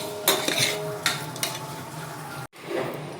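A spoon clanks and scrapes around a pot of chicken sukka as it is mixed. A few sharp metallic knocks and stirring scrapes come up close, broken by a brief silent gap near the end.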